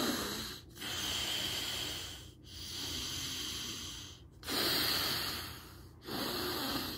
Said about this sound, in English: you breathe in and out of each alternating nostril